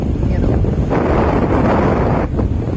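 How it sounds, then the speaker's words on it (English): Sea waves at a beach, heard as a steady, loud wash of surf mixed with heavy wind rumble against the microphone, with a brief dip near the end and no voices. "The sound of the water is so therapeutic."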